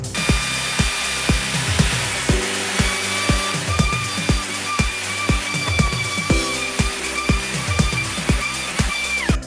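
A power tool cuts biscuit slots in wood for a cajon box drum, a whining motor overlaid with a rapid series of sharp repeated knocks, close and loud with no talk.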